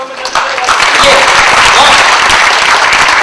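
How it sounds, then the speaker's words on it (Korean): A crowd at a World Toilet Day ceremony breaks into loud, sustained applause close by, dense clapping filling the room, with voices mixed in. "큰 박수 한번 해주시기 바랍니다"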